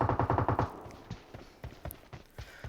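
Rapid burst of about six automatic gunshots from PUBG Mobile on the Vikendi map, close and loud, then sparser, fainter single shots trailing off.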